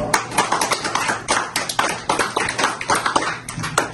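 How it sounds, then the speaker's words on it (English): Church congregation applauding at a worship gathering, a dense, steady patter of many hands clapping close by for the full stretch with no pause. "give yourself a round of applause"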